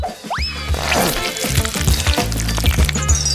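Meat frying in a pan on a home stove, a steady crackling sizzle with clattering and stirring noises over it, close and fairly loud, with a brief high whistling tone near the start.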